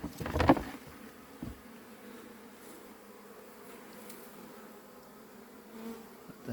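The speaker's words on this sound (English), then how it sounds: "It's a bee. Oh, it's a bee." A brief burst of honeybee buzzing up close at a beehive near the start, then a low steady hum and faint background noise for the rest.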